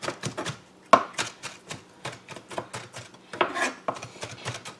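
Partly thawed frozen breakfast ingredients being chopped with a knife on a cutting board, a close, rapid series of dry knocking cuts with brief pauses between bursts.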